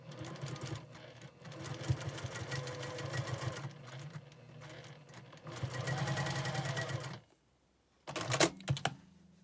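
A sewing machine restitches the seams of a Churn Dash quilt block: close, steady runs of rapid needle clatter, a brief stop near the end, then one last short burst.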